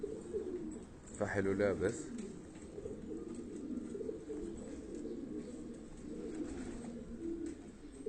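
Pigeons coo softly in a low, throaty murmur that carries on through the clip at a bird-hunting spot outdoors, while someone speaks briefly over them.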